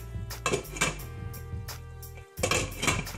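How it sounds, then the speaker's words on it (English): A lid set onto a pot of Jamaican beef stew turned down to low, giving several clattering metal clanks and knocks close by, with a brief quiet gap before a final louder clatter. "I'm going to turn it down to low and put a top on it."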